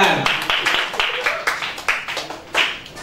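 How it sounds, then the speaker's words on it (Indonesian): A small audience breaks into scattered clapping, uneven hand claps coming close together over a few seconds, with people talking over them. "Kasih tepuk tangan"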